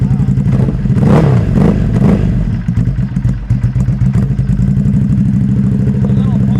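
Loud, close Ducati Hypermotard (2025) with an SC Project CR-T exhaust, fitted with barrel-style dB killers, running cold: two sharp revs rise and fall, then it settles into a lumpy, uneven idle, with someone talking over it.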